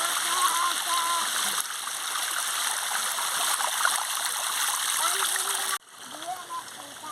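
A waterfall near the Gurabasa Shiva temple in Sundargarh pours with a constant loud rushing splash while a person talks over it. The roar drops abruptly quieter near the end.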